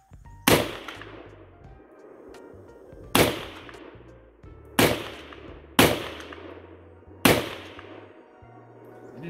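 Five loud Type 81 rifle shots crack at an outdoor range at uneven intervals, each sharp report followed by a short echoing decay. No one speaks between them.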